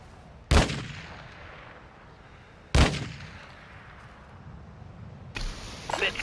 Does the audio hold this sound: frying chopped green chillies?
no